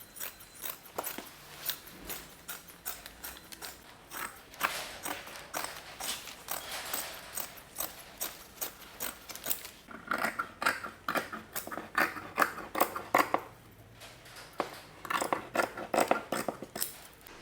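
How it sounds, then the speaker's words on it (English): Fiberglass sheet is trimmed to size for a Renault Trafic campervan door card, giving quiet, repeated crisp snips in an uneven rhythm, with brief pauses and a faster flurry of cuts toward the end. "So what we gotta do next is cut a bit of the fiberglass."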